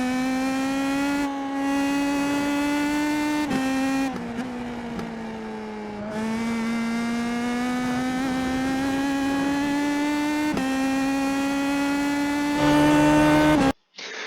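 IndyPro2000 open-wheel race car in the iRacing simulator at Okayama, its engine droning loud and continuous as it climbs and drops through gear changes around a sequence of corners, with no talk.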